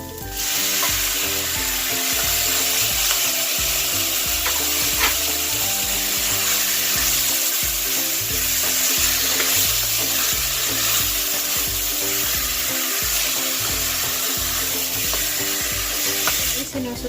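Chicken gizzards sautéing in a hot pan, a loud, continuous sizzle with the scrape and clatter of stirring throughout, heard up close and alone.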